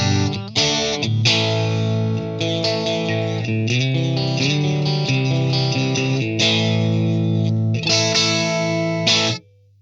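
Electric guitar played through a Shure GLXD16+ wireless system with effects, loud sustained chords and notes with distortion and chorus, continuous for about nine seconds then cut off.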